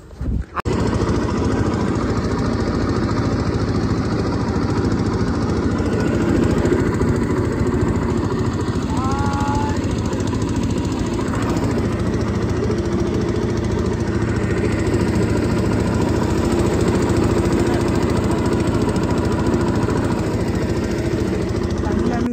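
Boat engine drones steadily and loudly throughout while the boat docks, a continuous mid-pitched motor rumble with voices talking over it.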